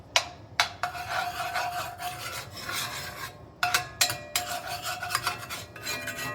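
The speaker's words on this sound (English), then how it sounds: "So we are scraping the bottom. Scrape all along those sides." A spatula scrapes across the bottom and sides of a stir fry pan holding sesame teriyaki shrimp, giving repeated rasping strokes in bursts with short pauses, close and fairly loud, no voices.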